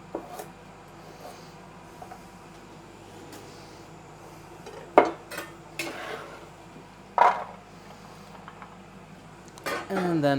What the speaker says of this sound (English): And then I have 2 more carrots, so I'm just gonna cut up for my stir fries. Just little medallions.